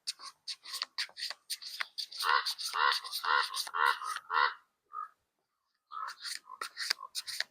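Loud, repeated harsh calls from several crows cawing close by, in rapid bursts with short pauses between them.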